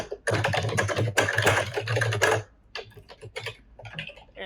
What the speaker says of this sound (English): And that's called a gaming keyboard right there.